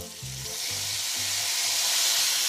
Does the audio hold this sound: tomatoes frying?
yes